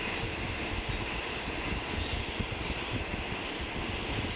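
Ordinary passenger train no. 234 on the Surin–Bangkok line rolls along, heard as a steady broadband rumble and rattle from inside the carriage, fairly faint and unbroken, with no talking.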